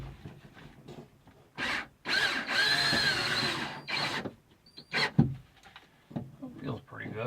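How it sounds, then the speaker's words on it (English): A power drill fitted with a Phillips head screw bit drives a screw in several short whirring bursts, close by, with talking in between the runs. "we will use the Phillips head"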